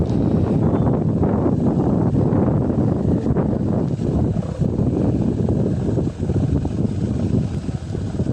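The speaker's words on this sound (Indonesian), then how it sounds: "Anginnya besar sekali tuh." Strong wind blasts across the microphone as a loud, continuous gusty roar outdoors, where a 2.5 m Ram Raman kite is being set up.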